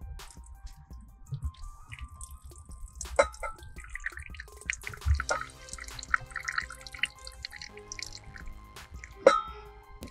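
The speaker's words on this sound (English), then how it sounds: "Draining off all that fat and all that water." Fat and water drain off a pan of roasted brown sugar bacon Brussels sprouts, giving steady dripping and trickling with small clinks and scrapes of the pan, fairly quiet and without speech.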